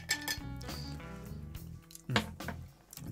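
A whiskey cocktail stirred with ice in a mixing glass, a few close, bright clinks and rattles of ice against glass and spoon, brief and quiet, with no talking.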